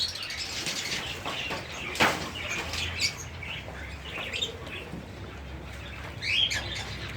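Pet cockatiels in cages give sharp chirps and squawks at close range, with a little wing flapping and rustling between the calls.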